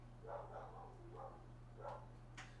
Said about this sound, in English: the door wasn't closed for a half second, and the dog just took off barking